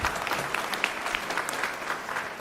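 Conference audience applauding, a dense, continuous wash of many hands clapping at once, fairly loud and sustained for the whole moment.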